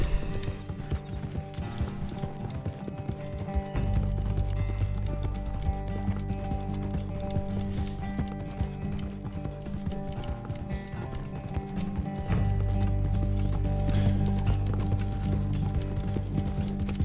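Horse hooves pound in a steady rhythmic gallop in Red Dead Redemption 2, continuous and fairly loud over a low game soundtrack drone, with brief shifts in pace.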